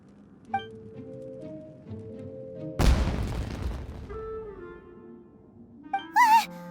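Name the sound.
fireworks explosion in video game Genshin Impact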